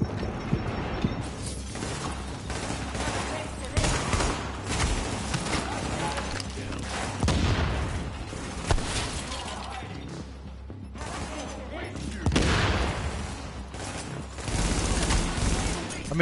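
Shooter gameplay from The Division on hard difficulty, with dense bursts of gunfire and clattering impacts crackling through a noisy mix, a player's voice speaking over the action at times.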